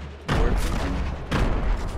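Fortnite gunfire in a match: two loud broadband bursts of shots near the start and again around the middle, each rumbling and decaying with no talk over them.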